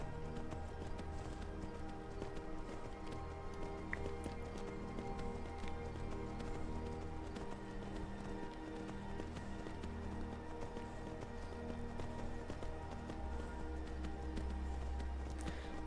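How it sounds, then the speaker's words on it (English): Horse hooves gallop steadily over stone in the video game Skyrim, a continuous rapid clip-clop rhythm close up over a constant ambient game backdrop, with no talking. "Listening to the sounds the horse riding is making."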